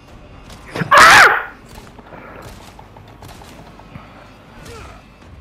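A dog barking in the Resident Evil 4 Remake video game, one loud, harsh bark burst up close followed by fainter game noises and creaks, no speech.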